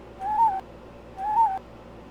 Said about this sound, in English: We're listening to only one bird, and we're listening to it consecutively.